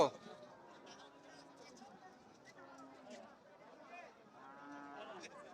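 Cattle low repeatedly at a crowded cow market, several moos rising through steady chatter and people talking nearby.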